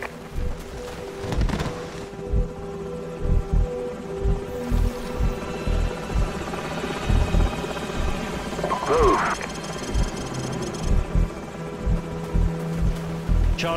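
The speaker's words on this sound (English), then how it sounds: "Enemy helicopters." Enemy helicopters in the Call of Duty Modern Warfare campaign: a steady rotor drone under a battlefield soundscape, with repeated loud thumps and bursts punctuating it and a brief tonal radio-like blip partway through.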